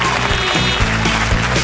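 A studio audience on a comedy panel show claps in dense, steady applause that fills the room at a loud level for a short stretch.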